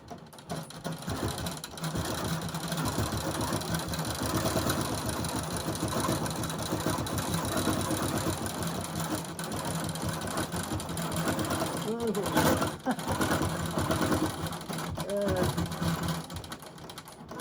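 A sewing machine stitches steadily while quilting a log cabin quilt, its fast rhythmic needle chatter running nearly the whole time with a brief pause near the end, while a person talks over it.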